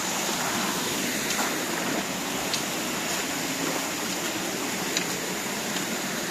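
Waterfall roaring in a Dolomite canyon, heard from right beneath the falls as a steady, loud, broadband rush of falling water that never lets up.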